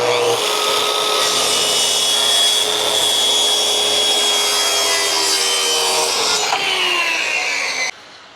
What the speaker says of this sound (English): gonna do some trimming up with my track saw